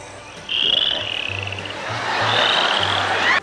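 A cartoon frog croaks in a VHS singing-contest episode, with loud repeated ribbits over a low droning background hum.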